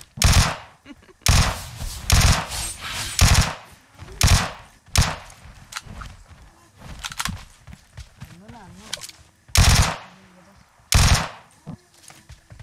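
Automatic gunfire from the mobile shooter PUBG Mobile rips out in repeated loud bursts separated by short gaps, while players talk quietly between the volleys.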